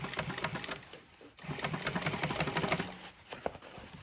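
A sewing machine stitches boat cover upholstery with a steady, dense mechanical whir and rapid needle chatter. It runs continuously at close range, dips briefly as it slows, then resumes, with no talking.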